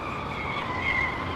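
A fast car's tyres screech in a sustained, steady squeal against a constant noisy outdoor background.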